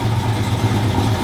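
A car engine runs steadily right after its first start-up following work on it, a loud, continuous close-up drone with a low rumble that holds even throughout, and no voices.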